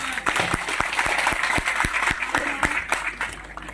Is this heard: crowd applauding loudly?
yes